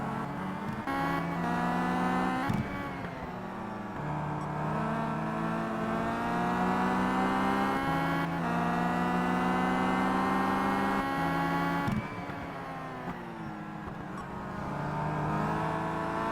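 Volvo touring cars in a 2011 WTCC race at Brands Hatch in a sim racing game: several engines drone and rev steadily together, with gear shifts and pitch dips, loud and close throughout.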